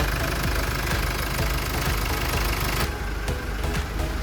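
A 2013 Jeep Wrangler Rubicon four-door with a 2.8 diesel engine idling, a steady, close clattering rumble with a faint knock and no voices.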